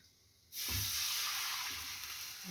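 Pork belly fat hits a hot pan and breaks into a loud, steady sizzle that continues evenly after a quiet start.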